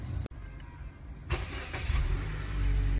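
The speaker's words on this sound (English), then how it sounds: "start engine." A car engine starting after a battery check with a charger-tester: a short crank catches and settles into a steady, fairly loud idle rumble, with no talk.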